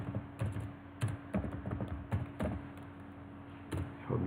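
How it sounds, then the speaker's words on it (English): Keys clack in irregular bursts on a computer keyboard while a new web address is entered into an HTML file, close and fairly soft over a steady low background hum. "We just type the new address."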